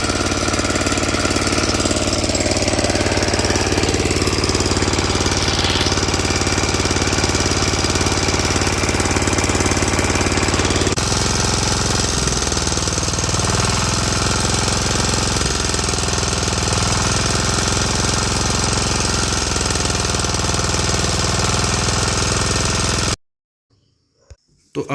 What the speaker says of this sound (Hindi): जो आवाज़ थी मेरे पावर वीडर की, और जब मैंने उसको ठीक करवाया उसके बाद जो आवाज़ है